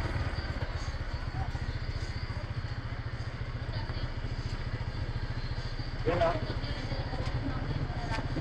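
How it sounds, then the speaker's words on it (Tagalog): Four motorcycles idle at Bagsit River in Palauig, Zambales, a steady low, rhythmic engine chatter running throughout, with a faint voice and a brief louder clank partway through. "Apat na motor."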